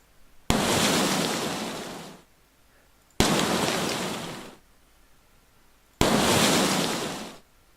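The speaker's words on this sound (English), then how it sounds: "First is the fire sound." Three separate bursts of a fire spell effect from an RPG game template, each a loud, roaring whoosh that starts sharply and fades over about a second and a half, with short silences between them.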